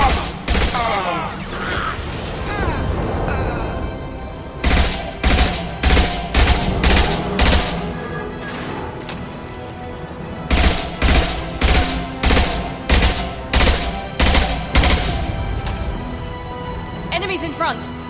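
Rapid bursts of automatic gunfire in the Mass Effect 2 video game, loud, close and repeated in several volleys with brief gaps, alongside game voices and effects.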